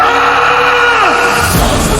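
A man in a film lets out a loud, strained scream lasting about a second and a half, alone and close, before it breaks off abruptly.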